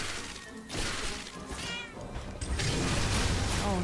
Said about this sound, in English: Oh no, not the sad meow.